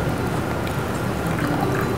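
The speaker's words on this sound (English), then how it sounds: "So we get the sauce into the sieve. I'm just going to help pass it through a little bit." Date and cider sauce is poured into a sieve and pushed through, making a close, steady wet pouring and trickling sound with small drips, continuous and fairly loud, without speech.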